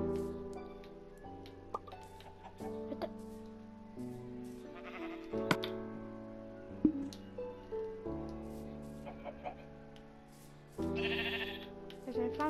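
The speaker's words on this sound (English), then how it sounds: "Got a couple of sheep." Sheep bleat in Minecraft over the game's soft piano music, several short bleats scattered across the stretch, faint against the melody, with no talking.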